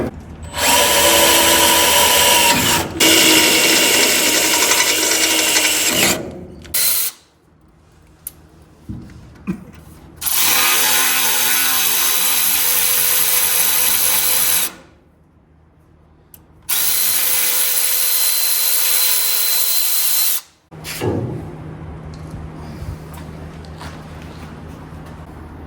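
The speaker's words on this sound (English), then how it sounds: "The drill bit walked around so much." A power drill whines loudly in long bursts, stopping and starting several times with short quiet gaps between runs.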